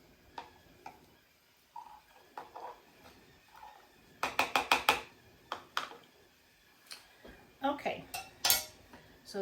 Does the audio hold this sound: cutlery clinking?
yes